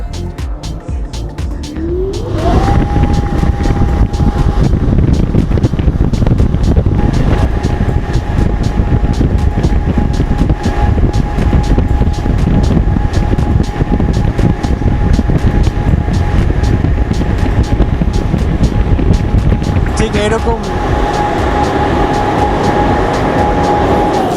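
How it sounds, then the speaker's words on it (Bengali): A helicopter landing simulator with blown wind produces a loud, steady roar and rushing air, with a rising whine that settles into a sustained tone and shifts again near the end. "ল্যান্ড করলে কী ধরনের আওয়াজ হয় দেখাইতেছে আপনাদের"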